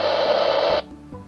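Loud hiss of static from the loudspeaker of an Icom IC-M421 marine radio, steady for about 0.8 seconds and then cut off abruptly, leaving a quiet hum and a faint click.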